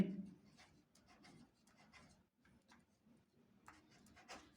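A pen scratches across paper in faint, quick strokes during a math lesson, with short pauses between the written marks and no talking.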